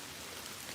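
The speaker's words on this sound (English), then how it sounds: "It's starting to rain again." Rain falls in the woods during hurricane rain bands, a steady dense hiss of drops on surfaces, even and continuous, with no voices.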